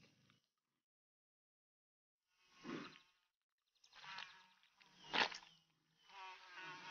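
Biting insects buzz around a rhino in the Borneo wild, with several separate close whining buzzes that swell and fade between stretches of silence.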